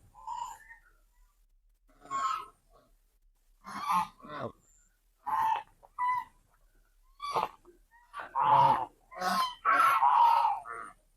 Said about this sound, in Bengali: যাদের গলার আওয়াজ দূর থেকে শোনা যাচ্ছে এই যে তারা আসছে সামনে